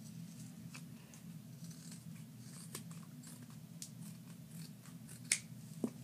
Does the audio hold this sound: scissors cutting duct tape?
yes